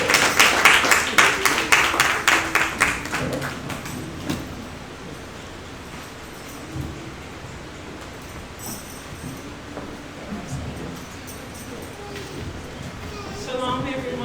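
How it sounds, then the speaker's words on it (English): Congregation clapping hands at a church service, a burst of loud, rhythmic claps in the first few seconds that fades out, followed by quieter room noise and scattered sounds. "So give them a hand clap as they come forward."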